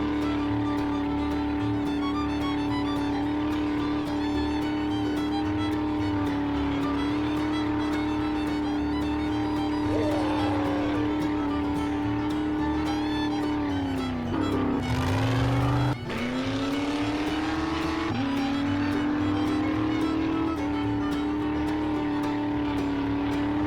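Vehicle in the 7 Days to Die survival game driving continuously, a steady engine drone shifting pitch as it speeds up and slows, with a brief dip around the middle, close and constant throughout.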